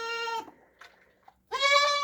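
A goat bleats during milking: two loud, drawn-out nasal bleats close by, separated by a short quiet gap with faint small rustles.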